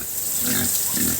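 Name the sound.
pig grunting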